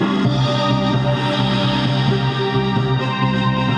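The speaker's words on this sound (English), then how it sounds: "can hear all the sound effects from the intro on the SNES game" A sustained Chrono Trigger intro remix with bright retro SNES game sound effects from the original intro blended into the mix, full and steady throughout.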